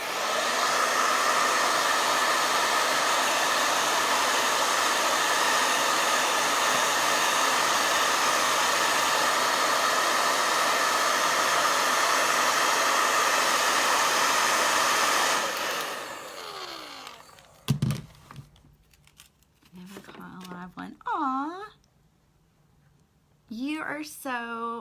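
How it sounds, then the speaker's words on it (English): A hair dryer blows steadily and loudly for about fifteen seconds to dry paint on a door hanger, then cuts off, followed by a quiet stretch with someone talking. "let me blow dry really quickly"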